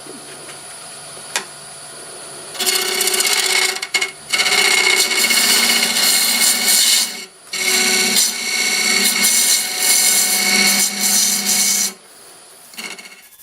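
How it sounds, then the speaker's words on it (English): Wood lathe turning a very old board into a bowl with a freshly sharpened 1/2-inch bowl gouge at around 700 to 930 RPM: long, loud scraping cuts with steady whirring tones, broken by a few brief pauses. "I just sharpened up my 1/2" bowl gouge. I think we're doing about 700 RPM."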